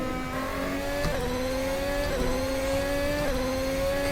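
An RSS Formula Hybrid X 2021 race car engine revs in a steady high whine that climbs in repeated gear-shift steps, loud and continuous with no voices.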